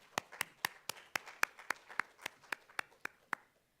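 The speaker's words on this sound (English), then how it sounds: "Let's give them a round of applause." A small group claps at a student government meeting, about fourteen sharp, evenly spaced claps over a few seconds that stop abruptly, heard faint and somewhat distant with no talk.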